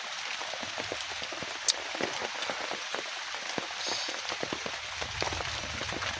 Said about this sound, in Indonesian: Bisa panjang hujan ini guys.